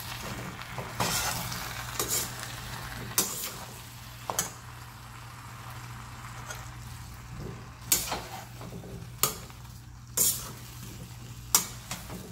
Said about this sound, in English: Saute it a little and then add the tomatoes.